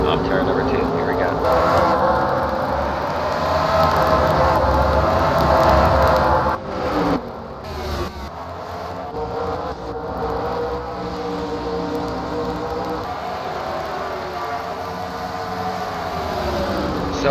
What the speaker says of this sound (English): We're going to get a great flyby this time by that same camera angle.